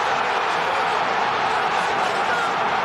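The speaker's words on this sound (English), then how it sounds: "And just listen to this crowd" Large football stadium crowd roaring after a goal in a Champions League match, a dense, steady wash of cheering noise with no breaks throughout.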